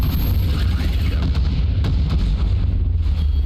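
Tracker missiles launching and exploding in the space combat video game Breachway, a dense, loud, continuous rumble of booms and bursts with no pauses.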